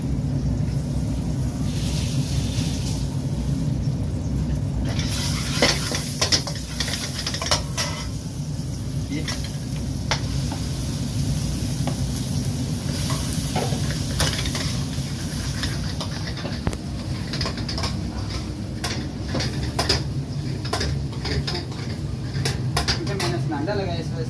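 Garlic ginger paste fries in oil in a wok while a professional Chinese chef makes dry beef chili, with a continuous loud sizzle broken by frequent clanks of a metal utensil scraping and stirring.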